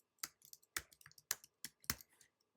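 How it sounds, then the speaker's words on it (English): Typing a search into a search box on a computer keyboard: about five distinct key clicks at an uneven pace, close and fairly quiet, with no voices. "So what you can do right here in this search box right here, type in sketch"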